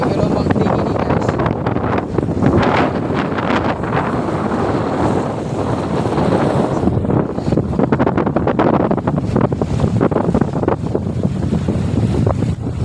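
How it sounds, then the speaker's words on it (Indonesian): Strong wind and heavy waves at sea off the Aru Islands during bad weather: a steady, loud broadband roar of gusting wind and surging water that fills the whole stretch without pause. "angin kencang ini"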